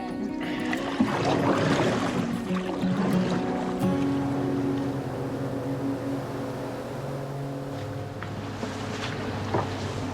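An outrigger waka ama canoe crewed by para-athletes glides across open water, with a steady wash of water and wind around the hull and no voices.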